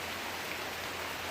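Rain keeps falling during a storm far in the mountains, a steady fairly quiet hiss of drops on surfaces with no talking.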